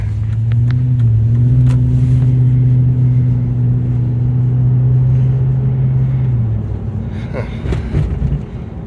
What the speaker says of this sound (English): We're driving to town here